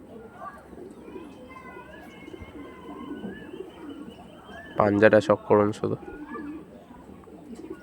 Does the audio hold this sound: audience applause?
no